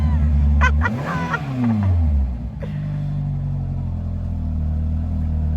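An old Peugeot car engine cranks, revs up and down with rising and falling pitch, then settles into a steady loud idle close by.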